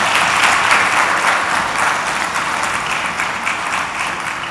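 A conference audience at a CEO summit in Ghana applauds a speaker, a steady wash of many hands clapping throughout, loud and even with no voices on top.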